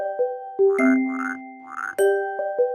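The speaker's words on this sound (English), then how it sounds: "Frog," A frog croaking in several short rhythmic calls, close and clear, alone without talk, with faint tinkling tones between the croaks.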